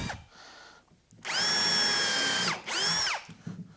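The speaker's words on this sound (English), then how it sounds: "This is just a number 6 countersink bit." A power drill with a number 6 countersink bit bores into wood for a three-drawer base cabinet. It whines loudly in two close bursts, the first longer, with quiet gaps before and after.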